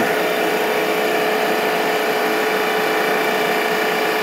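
A Vevor RR500 refrigerant recovery machine running steadily after start-up, a loud, constant mechanical whir and hum with a fixed tone, close and alone.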